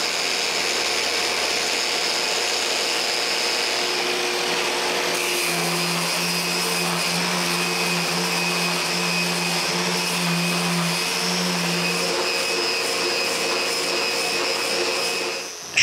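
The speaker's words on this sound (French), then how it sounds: "j'arrête même plus la sableuse entre le sablage et le nettoyage" An electric sander runs without pause on a live-edge wood fireplace mantel, a loud, constant motor whine with a shifting tone partway through as the sandpaper is cleaned while the tool keeps spinning.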